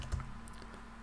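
Arrow keys tapped on a computer keyboard, a few quiet, close clicks with one slightly louder press early on, nothing else heard.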